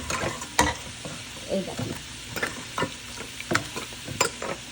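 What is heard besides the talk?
stirring chicken in a frying pan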